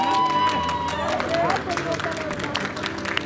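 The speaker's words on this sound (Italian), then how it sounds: "salutato da un applauso spontaneo di medici e infermieri dell'azienda ospedaliera fiorentina." Spontaneous applause from doctors and nurses at a Florence hospital as the first Covid vaccine doses arrive, clapping and crowd noise mixed with a narrator talking over it.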